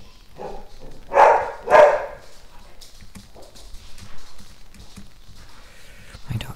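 A pet dog lets out two loud, close barks in quick succession, followed by quieter rustling and soft thumps in a room.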